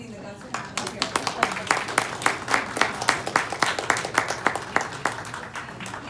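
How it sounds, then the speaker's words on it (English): A town hall audience breaks into steady applause, many hands clapping in a dense, sustained patter that carries on for several seconds in an indoor meeting room. "I think he deserves an applause just for getting the guts to come here."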